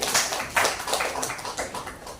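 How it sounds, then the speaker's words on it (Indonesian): Audience applause at a public gathering, a steady patter of many hands clapping at moderate volume, with brief swells through the burst. "Kita berikan tepuk tangan lagi"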